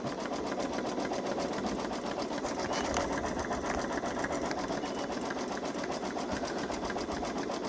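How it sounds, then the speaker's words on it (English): A Baby Lock Solaris embroidery machine stitching out a design, giving a fast, steady mechanical needle chatter that runs continuously and evenly at close range with no talk. "This stitch says it takes 7 minutes to stitch out."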